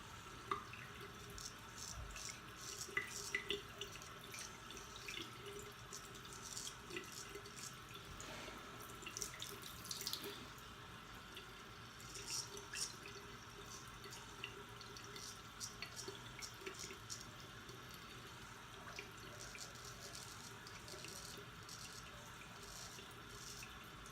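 Tap water runs steadily into a sink while a straight razor is rinsed beneath it, a quiet continuous splashing with small irregular drips and clinks, close by and with no talking.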